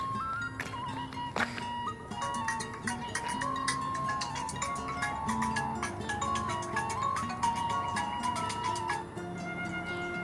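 A lost mobile phone plays a ringtone melody continuously, a bright tune of rapid notes heard at moderate level without anyone speaking.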